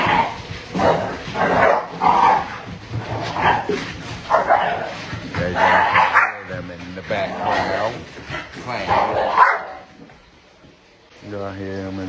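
Puppies and bigger dogs bark, yip and whimper while playing, a busy run of overlapping barks at close range, with a person talking over much of it.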